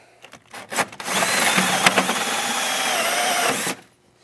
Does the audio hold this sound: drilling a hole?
yes